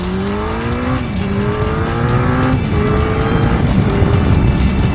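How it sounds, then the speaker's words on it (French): A Suzuki Hayabusa motorcycle accelerates hard, its engine note climbing loud and close through rising sweeps with short breaks between gears. "Regarde comme ça on va accélérer tu vois, on va lui en mettre plein de gueule là, Yabusa."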